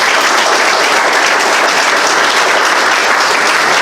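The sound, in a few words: town meeting audience applause for Jordy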